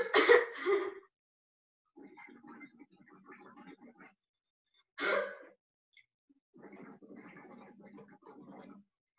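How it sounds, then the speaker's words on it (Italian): Coughing alternates with bursts of bubbling as breath is blown through a tube into a water bottle, in a breathing exercise for clearing airway secretions: two short cough bursts, a soft bubbling run, another cough, then more bubbling, close and fairly quiet. "l'esercizio consiste nell'alternare tosse e bolle in questo modo"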